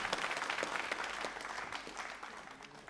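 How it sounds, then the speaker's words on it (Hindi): An audience at a literacy quiz show claps loudly, a thick wash of many hands applauding for a few seconds, steady and fairly close, then thinning slightly. "तालियां जोरों से बजाओ एक बार आप।"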